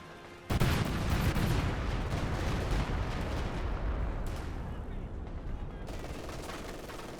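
Cluster bomb explosions in Company of Heroes 2 land as a dense, continuous barrage of crackling blasts and rumbling impacts that starts abruptly and stays loud for several seconds, with faint talk beneath.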